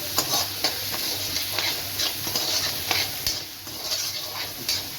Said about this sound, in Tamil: நல்லா வெங்காயம் தக்காளி வதங்கணுங்க